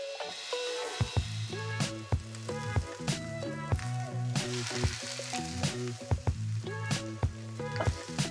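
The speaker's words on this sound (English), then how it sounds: "I'm gonna go ahead and start placing some of these onions on there. Woo, sizzling." Onions sizzle on a hot stovetop for salsa, a steady bright hiss broken by frequent pops and crackles, close and alone with no voices.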